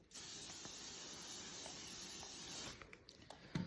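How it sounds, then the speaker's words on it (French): Hairspray misted over a French twist hairstyle: one continuous, even aerosol hiss lasting a few seconds, fairly quiet and close, followed by faint handling clicks and no speech. "Et je mets un peu de spray."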